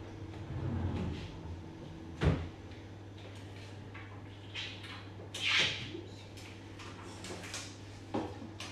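A dresser drawer in a college residence hall dorm room slides open and shut, a few soft wooden knocks and scrapes spread over a quiet room with a steady hum.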